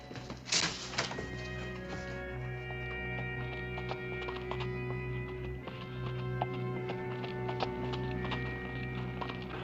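Horse hooves of an approaching rider in an old western TV drama, a steady clip-clop of hoofbeats over a low background hum, with a sharper knock near the start.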